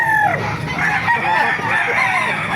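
A rooster crows loudly and close by at a busy chicken market in Baliuag, with clucking fowl around it and a faint crowd murmur underneath.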